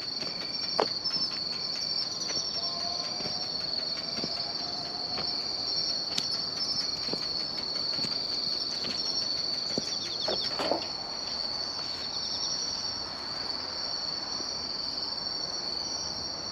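Crickets and other singing insects trill steadily along a roadside at night, a dense, unbroken high chorus with a few faint clicks and knocks underneath.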